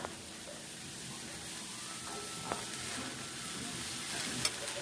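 Pumpkin pieces hit a pan of frying tomato and mustard, giving a soft, steady sizzle with faint stirring clinks, fairly quiet and without talk.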